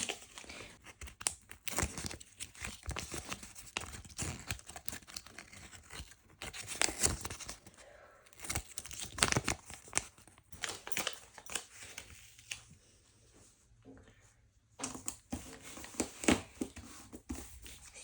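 Paper surprise packets stuck with double-sided tape are unpacked in a long run of close crinkling, tearing and crumpling paper, busy and continuous with brief pauses, with no talking.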